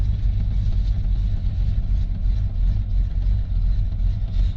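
A Chevy C10 pickup engine idles after a cold start with the hood open, a steady low rumble close by, alone and unchanging.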